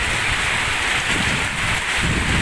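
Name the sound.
heavy rain with strong wind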